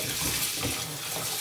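Running water splashes softly and continuously as carrots are washed a second time, a short, fairly quiet stretch of faucet-like flow.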